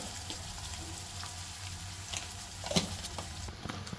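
Capsicum dropped into a hot pan of onion, curry leaves, ginger-garlic paste and turmeric, frying with a steady close sizzle, a brief louder burst of crackle near the end, no talking.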